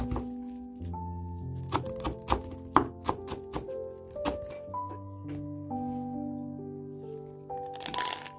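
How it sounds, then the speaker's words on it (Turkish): A knife chops onion, garlic and parsley on a cutting board in a home kitchen, giving a series of sharp irregular thunks, some louder, over a steady low background hum, with no speech. "1 adet büyükbaş kuru soğan ve 2 diş sarımsağı küçük küçük doğrayalım"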